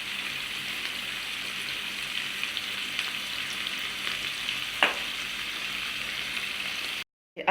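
Ackee sizzles continuously in a pan for Jamaican ackee and saltfish, seasoned with black pepper, with a dense frying hiss, one brief scrape of stirring midway and an abrupt stop just before the end.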